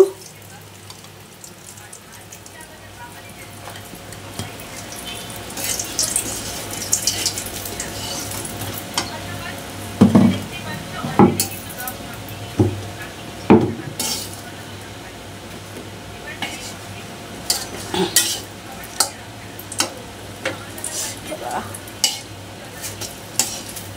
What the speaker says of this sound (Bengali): দেখো, বেগুনগুলো ভাজা হয়ে গেছে